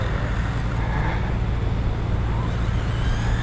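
A WLtoys 104072 RC race car drives fast, heard as a steady, loud whirring motor and road noise that holds at an even level throughout, with no talking.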